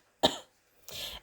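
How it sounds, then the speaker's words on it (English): A single sharp cough followed after a short pause by a softer, breathy second cough or throat clear, close and alone in a quiet room. "But suddenly she heard a cough"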